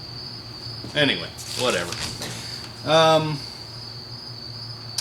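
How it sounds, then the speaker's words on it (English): Crickets chirp outdoors on a morning, keeping up a steady high trill through the whole stretch while someone talks briefly over it, close and clear. "The crickets certainly are happy."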